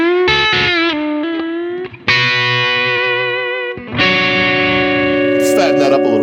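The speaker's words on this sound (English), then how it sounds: "And both coils are still on, so here comes the overdrive." A Reverend Jetstream HB electric guitar with both humbucker coils on plays through overdrive. Sustained distorted chords ring out loud and thick, with short breaks between them and a brighter, squealing rise near the end.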